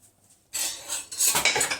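A plate that had covered a clay tagine of beef, okra and potatoes is handled, giving clinking, scraping ceramic clatter after a brief quiet start, growing busier and louder toward the end, with no talk.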